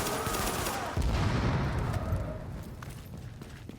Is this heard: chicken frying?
no